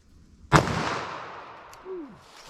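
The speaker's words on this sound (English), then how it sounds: "hit it with the 357 mag now" .357 Magnum revolver fired with Hornady Custom ammunition outdoors at a range: one sharp, loud report with a long rolling echo fading away, alone without voices.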